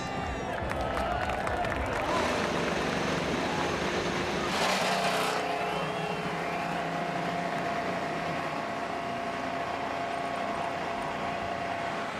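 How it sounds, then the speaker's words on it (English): IndyCar race car engines fire up together on the Long Beach street circuit before the Grand Prix, a loud continuous roar of many engines with a rising rev surge midway and crowd noise underneath. "cars firing up, getting ready to roll for the Grand Prix of Long Beach"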